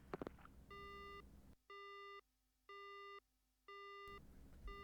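A phone line going dead in the horror game Spirit Hunter: Death Mark, heard as repeated electronic busy-signal beeps in an even on-off rhythm, three or four tones separated by short silences, loud and clean with no talk.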